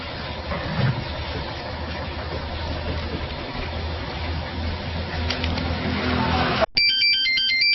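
A phone ringtone breaks in with a loud, bright electronic melody after a long stretch of engine-like rumble and background noise.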